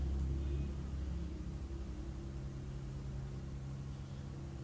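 An electric mixer beats fudge brownie batter made with cocoa powder, giving a steady, even motor drone with a low hum that stays constant throughout, with no voices.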